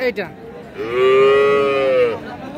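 A young Friesian or crossbred heifer calf at a cattle market lets out one long, drawn-out moo, loud and close, rising then holding steady before cutting off.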